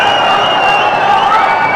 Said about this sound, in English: He's got the crowd electrified and alive.